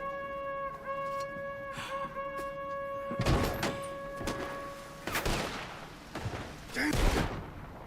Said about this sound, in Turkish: Artık e, sıcak çatışma başlıyor arkadaşlar.